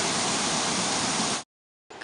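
Piute Creek rushes loudly and close by beside a mountain trail, a dense roar of water that cuts out abruptly, falls silent briefly, then returns.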